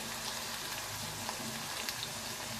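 Potatoes fry in a pan with a soft, even sizzle and faint crackling pops, steady throughout with no talking.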